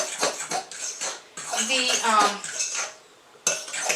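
A spoon clinks and scrapes rapidly against a bowl while lemon bread batter with lemon flavoring is stirred, in quick bursts with short pauses.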